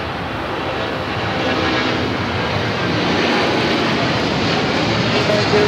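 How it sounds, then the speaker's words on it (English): An Airbus A380 taxiing at Los Angeles airport gives a steady, loud, broad roar of jet engines that swells slightly and holds throughout. "The A380 is now taxiing."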